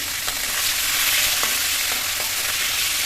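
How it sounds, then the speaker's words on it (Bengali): Hilsa fish heads frying in oil, a loud, dense, continuous sizzle close by with a few faint scraping stirs, no voices. "সরি ভর্তা না ভেজে নিতেছি আর কি ভর্তা করার জন্য"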